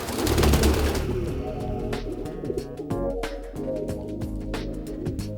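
Pigeons coo loudly and close up in a loft, with overlapping calls, wing flutters and clattering movement.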